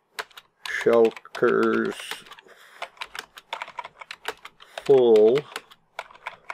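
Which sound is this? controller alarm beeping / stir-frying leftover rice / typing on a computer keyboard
typing on a computer keyboard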